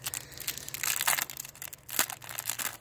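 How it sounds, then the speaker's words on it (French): Crinkling and tearing of plastic packaging as a set of Dragon Ball trading cards is unwrapped, close and steady with brief louder crunches, no talking. "on va le déballer."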